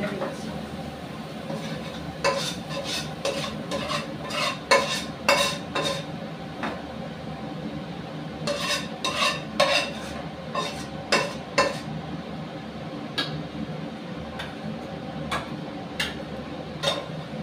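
Fish dropped into a pan fries with a low sizzle under repeated metallic scrapes and clinks of a utensil against the pan, close by and irregular, with some voices in the background.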